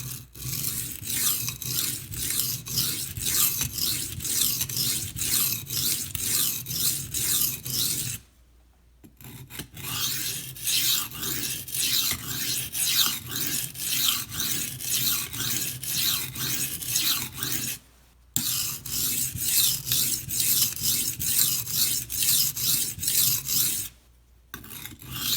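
A knife blade scrapes back and forth across a coarse sharpening stone in steady rhythmic strokes, close and gritty, pausing briefly three times before the rasping resumes.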